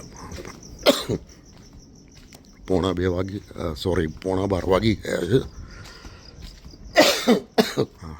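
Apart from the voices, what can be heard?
coughing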